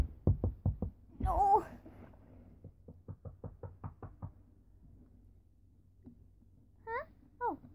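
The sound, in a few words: knocking on a door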